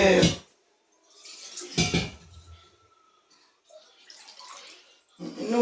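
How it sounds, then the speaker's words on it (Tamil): Water splashes and pours into a metal pot in bursts while making spiced buttermilk curry, with clinks of cookware and a faint voice in between. "இதுக்கு மொத்தத்தில் ஒரு பெரிய 1 லிட்டர் தண்ணி சேர்த்துக்கலாம்"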